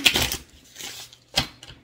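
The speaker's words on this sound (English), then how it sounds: "Next, then I gotta shuffle 3 times." Tarot cards being shuffled by hand, giving a few short rustling, riffling bursts with quiet gaps between them, close and moderately loud.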